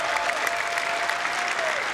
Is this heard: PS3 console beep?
no